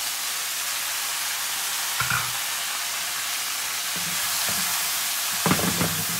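Potatoes frying in a pan give off a steady, loud sizzle and hiss, with a few brief stirring scrapes partway through and again near the end.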